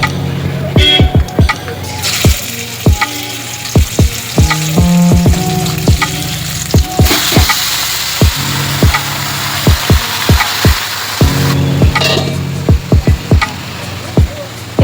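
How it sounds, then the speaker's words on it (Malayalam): Chicken pieces fry in a pan with browned coconut pieces, a loud, continuous sizzle broken by frequent scraping and clanking of a spoon as the mixture is stirred, with no talk. "ഇതിലേക്ക് നമുക്ക് ചിക്കൻ ചേർത്ത് കൊടുക്കാം. 1 ഹവറായി. നമുക്കിത് ചട്ടിയിലേക്ക് ഇട്ട് കൊടുക്കാം."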